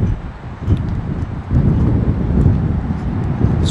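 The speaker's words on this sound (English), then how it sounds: "It's windy out here." Heavy wind rumbles steadily against the microphone outdoors at a car dealership lot beside a 2002 Jeep Grand Cherokee 4x4, a low continuous buffeting with slight swells in strength.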